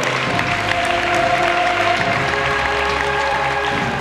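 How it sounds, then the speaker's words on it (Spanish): Strong applause from a crowd at a team presentation for goalkeeper coach Pacheco, a steady dense wash of clapping close and loud throughout, with faint voices mixed underneath. "Fortísimo aplauso para Pacheco."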